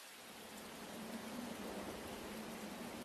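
Steady rain with a distant thunderstorm rumble as a continuous broadband ambient wash, fairly loud and even throughout with no talking.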